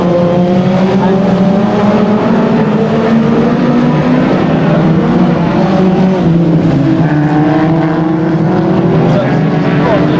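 Race cars roar around Aldershot Raceway in a loud, continuous engine drone, pitches rising and falling as the cars pass, with a commentator talking over the noise throughout.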